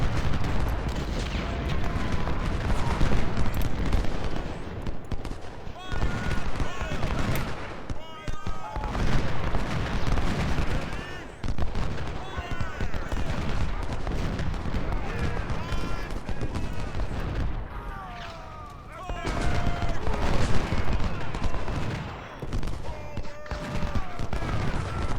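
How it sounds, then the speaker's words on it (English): Musket volleys and scattered rifle shots crackle and boom in a Civil War battle video game, dense and continuous over a roaring battlefield din, with someone talking over the gunfire. "we gotta be able to shoot our gun"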